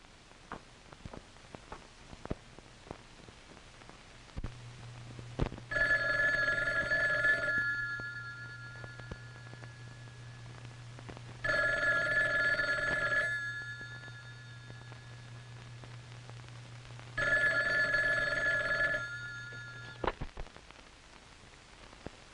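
Telephone ringing in three long electronic trills, evenly spaced bursts of a bright warbling tone over a low steady hum, fairly close and clear with no talk.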